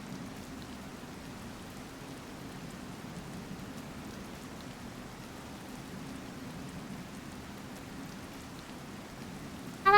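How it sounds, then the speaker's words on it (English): Steady ambient rain in the video game The Legend of Zelda: Tears of the Kingdom, a soft continuous patter with a low rumble underneath, even and unbroken throughout, alone with no voices. "So you can listen to the nice ambient rain sound"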